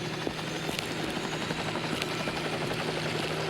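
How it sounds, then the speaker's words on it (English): A helicopter in the video game Resident Evil Survivor, during an escape chase, gives a constant loud rotor drone with rhythmic chopping that carries on throughout, with no talking. "A thrilling chase to a helicopter escape."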